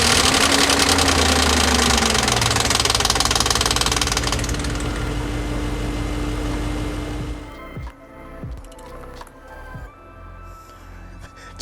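BMW E38 7 Series V8 engine on a cold start with a worn timing chain tensioner, a loud dense metallic rattle and knock over the running engine that eases after several seconds into a steadier idle with occasional clicks.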